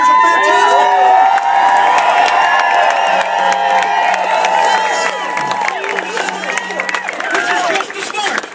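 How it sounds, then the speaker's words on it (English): Large outdoor crowd at a street march against Monsanto in San Diego, loud continuous cheering, whooping and shouting voices overlapping throughout, close and dense, easing slightly toward the end. "Look at this crowd."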